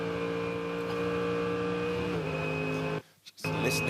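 Onboard a GT race car at the Bathurst 12 Hour through Reid Park, the engine holds a steady, loud, flat-out drone with strong harmonics, then cuts abruptly for a split second before surging back.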